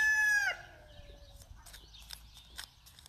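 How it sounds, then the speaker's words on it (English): A rooster crows loudly nearby for about half a second on a small farm, trailing off into quieter background clucks and scattered fowl noises. "And all the roosters are just saying"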